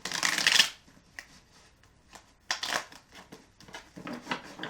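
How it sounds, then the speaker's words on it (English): A deck of tarot cards is shuffled close up in quick riffling bursts: a loud flurry at the start, then softer flicks and another riffle later, with no talk. "That was a horrible shuffle."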